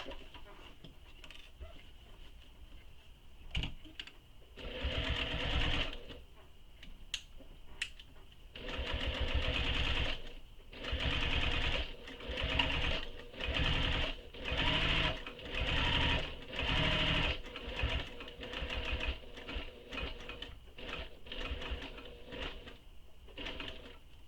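A sewing machine stitches along a handbag handle in repeated bursts of steady mechanical whirring, separated by brief pauses.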